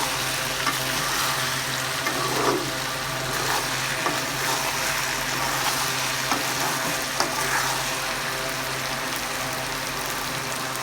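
A pan of jackfruit seeds and lentils fries with a steady sizzle while a spoon stirs and scrapes in scattered soft knocks, close up, with no voices over it.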